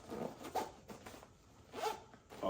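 Zipper on a Vertx S.O.C.P. tactical fanny pack being pulled in several quick close strokes, with short pauses between the zips.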